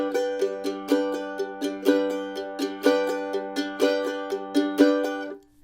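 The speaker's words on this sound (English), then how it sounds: "And the booma chukka to sound like this." A mandolin plays a booma-chukka strum pattern, repeating a steady, bouncy rhythm of quick strums and chord chops for several bars. The mandolin is close and alone, and the final chord fades out.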